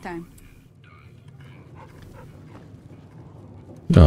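A dog in the Fallout New Vegas video game pants softly with faint whimpers and yips, fairly close, while a person talks over it, ending in a sudden loud burst.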